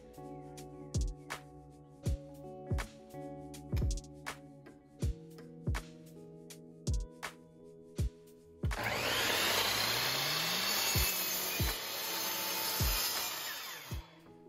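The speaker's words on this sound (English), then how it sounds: "When cutting with a miter saw" Repeated sharp knocks recur at a steady rhythm, then a miter saw whines up and cuts through wood veneer, a loud broadband roar close by lasting several seconds before the knocking resumes.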